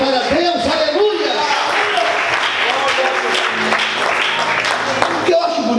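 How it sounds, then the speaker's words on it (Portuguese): A church congregation bursts into dense, sustained applause that fills the room for several seconds, with scattered voices mixed into the clapping. "você pode aplaudir e exaltar a Deus"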